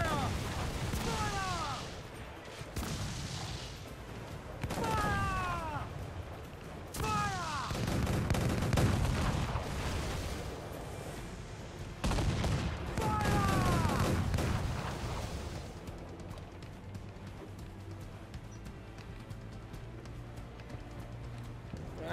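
Ship cannons firing in Assassin's Creed Black Flag during a naval battle, heard as loud repeated broadside volleys of booming shots in several bursts, each with whistling projectiles, before fading to lower rumbling and ambient sea noise.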